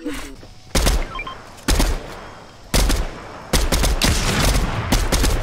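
Gunfire in the video game Fortnite: several loud, close bursts of rapid shots with sharp onsets, separated by short gaps, the last one ringing on longer.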